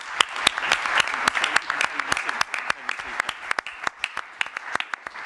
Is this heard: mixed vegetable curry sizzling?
no